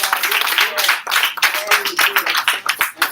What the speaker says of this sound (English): Come on, clap them hands, y'all.